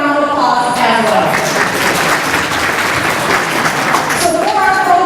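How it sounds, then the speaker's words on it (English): Applause for the hospitality team at an annual banquet, a loud sustained round of clapping from a roomful of guests that swells and then fades back toward quiet. "So let's give them a round of applause as well."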